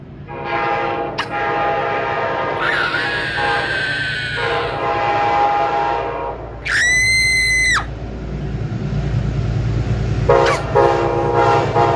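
A Metro North commuter train, number 855 from Grand Central to Poughkeepsie, passes Riverdale with a loud rumble and sounds its horn in several long blasts, plus a separate short horn note.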